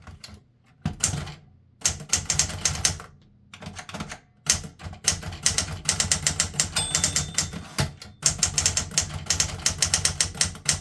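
Typing on a 1960s Smith Corona Galaxie II manual typewriter: bursts of sharp, thumpy key strikes in quick irregular runs, broken by short pauses and occasional carriage clunks, close and clear with no voices.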